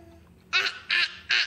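A young child imitates a duck, giving three short, bright nasal quacks in quick even succession after a brief quiet moment, close to the microphone.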